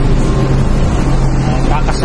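A constant low engine rumble and hum fills the enclosed interior of a roll-on roll-off ferry, with a steady mechanical drone and faint voices underneath.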